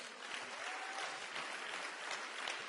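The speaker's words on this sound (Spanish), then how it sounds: "Dale un aplauso a Dios" Sustained church congregation applause fills the whole stretch, a dense, steady wash of many hands clapping at even loudness, with no voices rising above it.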